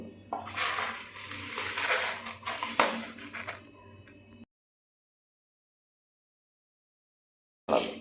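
Fenugreek seeds frying in coconut oil in a pan for a Kollam-style curry, a steady close crackle and sizzle for several seconds, then a long silence before a brief return.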